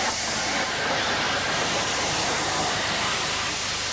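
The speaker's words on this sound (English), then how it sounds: "City of Nottingham leaves with a rail tour" Steam locomotive City of Nottingham departs with a 1960s rail tour, four months before withdrawal: a steady, loud, hissing rush of steam and exhaust roar fills the whole stretch without a break.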